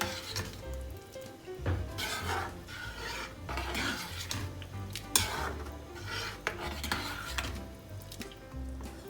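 A utensil stirs dal makhani in a pan over a flame, giving steady rasping scrapes against the pan with soft sizzling and occasional clinks, with no talk.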